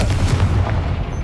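The Confringo blasting spell in the game Hogwarts Legacy sets off a heavy booming explosion. It is loud and rumbling and fills the whole short moment without fading, with no voices.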